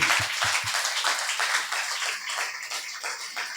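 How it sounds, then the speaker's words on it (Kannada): A church congregation claps loudly and continuously in a dense, roomy wash of applause, with a few sharper hand slaps standing out at the start. "ಜೋರಾಗಿ ಚಪ್ಪಾಳೆ ತಟ್ಟೋಣ"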